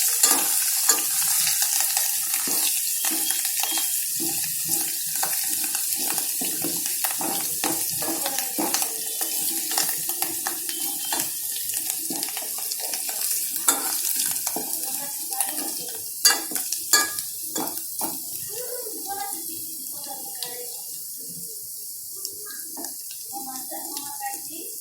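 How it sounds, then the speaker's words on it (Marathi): Tempering for toor dal tadka fries in a pan until golden, a steady crackling sizzle running throughout, broken by repeated clinks and scrapes of stirring, fairly close and moderate in volume. "जोपर्यंत या फोडणीला एकदम सोनेरी कलर येत नाही तोपर्यंत असंच तळू द्या."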